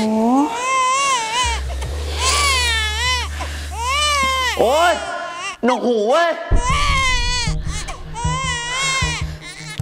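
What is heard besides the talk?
baby crying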